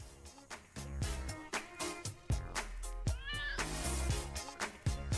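A cat meows repeatedly in the video game Bratz: Flaunt Your Fashion over busy background music with steady beats, the plaintive cries standing out clearly in the mix.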